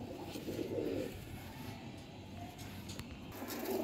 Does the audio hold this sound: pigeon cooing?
yes